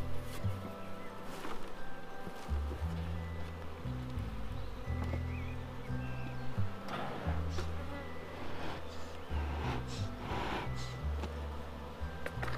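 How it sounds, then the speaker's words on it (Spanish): Honeybees swarming over an opened hive, a dense continuous buzz with individual bees droning close past, steady and alone without speech. "colmena con cantidad de abejas"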